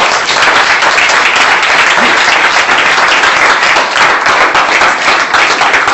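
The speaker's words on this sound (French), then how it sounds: "Applaudissons pour notre Père." A church congregation applauds loudly and steadily during a French-language prayer service, with dense continuous clapping filling the whole stretch and no voices rising above it.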